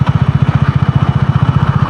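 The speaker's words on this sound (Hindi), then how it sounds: "6th गियर में बाइक अब चल रही है बिना थ्रोटल के" A Bajaj Dominar 400 motorcycle engine while riding in sixth gear with the throttle closed, a loud, steady low thumping pulse at an even rapid rhythm, heard close up with no talk.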